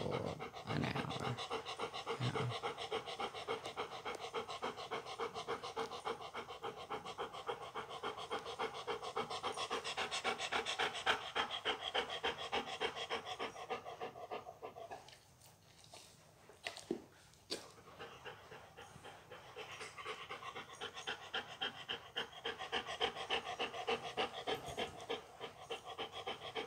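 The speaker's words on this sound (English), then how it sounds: "The panting like this basically has not stopped, so full blown for an hour." A dog pants hard and steadily without pause, a close, rapid rhythmic breathing that keeps going throughout with only a brief lull partway.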